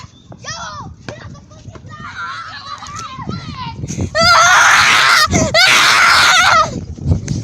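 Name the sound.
children screaming in a played video clip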